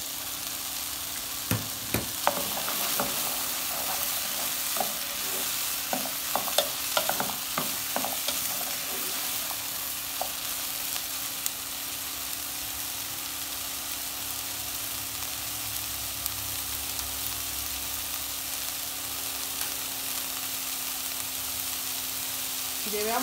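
Onion, peppers and carrot sauté in a pan with a continuous hiss. Scattered clattering stirring sounds come early, then settle into a steady, even sizzle.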